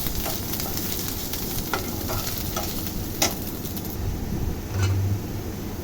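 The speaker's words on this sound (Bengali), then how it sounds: "ধনিয়ার গুঁড়া মরিচের গুঁড়া হলুদের গুঁড়া দিয়ে নাড়াচাড়া করে রান্না করে নিতে হবে" Dried loitta fish with coriander, chilli and turmeric powders fries in a pan, a steady close sizzle with occasional scraping stirs throughout.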